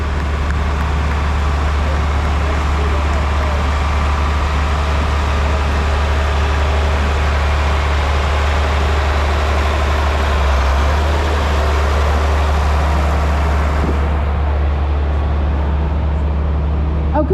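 A 1971 tractor runs steadily in a parade at a green-tractor reunion, its loud, constant low engine rumble filling the scene, with outdoor crowd and traffic-like noise around it.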